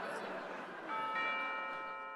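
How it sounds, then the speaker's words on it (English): A doorbell chimes with ringing, sustained tones, fairly faint under a murmur of voices and room noise. "Sounds like the bell."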